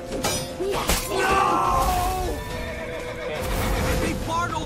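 A horse whinnies in The Witcher 3: Wild Hunt, a loud neigh over game music and tense shouting, with hoofbeats clopping nearby amid the chaotic escape scene.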